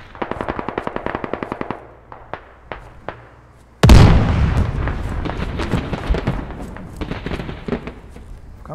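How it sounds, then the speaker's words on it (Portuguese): A military squad shooter game plays a rapid burst of automatic gunfire, then scattered single shots, then one loud explosion-like blast followed by a rumbling tail and more distant shots. "Tão atirando aqui, é?"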